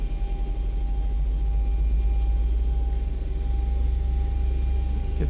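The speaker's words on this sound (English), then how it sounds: "we're gonna start up the engine number 1" Boeing 737 engine number 1 spooling up in X-Plane 11, a steady, loud low-frequency turbine rumble with a constant whine tone held throughout, no talking.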